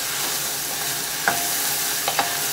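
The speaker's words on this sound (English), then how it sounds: "So I'm just going to stir this." Chutney being stirred in a cooking pan during a cooking workshop, a steady sizzling frying hiss with a few soft scraping strokes of the spoon, close and continuous with no talk.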